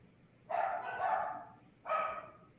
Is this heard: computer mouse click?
no